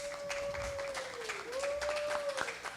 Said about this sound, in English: Let's stand up and give him an applause